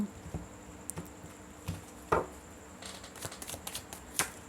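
Tarot cards being shuffled and handled at a reading, soft scattered flicks and slaps of cards at close range, fairly quiet with brief sharper snaps.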